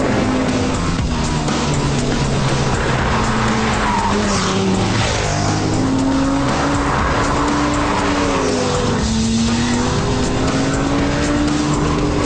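A Lamborghini Gallardo Superleggera racing at high speed, its engine roaring loud and close with rising and falling revs as it shifts gears, under continuous wind and road noise.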